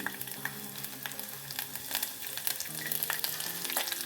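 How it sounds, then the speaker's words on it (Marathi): Garlic fries in hot oil for a fenugreek dish, a quiet, steady crackling sizzle broken by occasional soft stirring taps over a low background hum. "त्याच्यामध्ये तेल तापलं लसूण घालूया"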